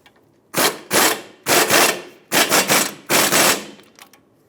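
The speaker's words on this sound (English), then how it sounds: "Install your mounting nut, and we'll bottom this out." Ratchet or air tool driving the mounting nut onto the lower ball joint of a new steering knuckle on a 2003-2008 Toyota Matrix, four loud, close rattling bursts with short pauses between them.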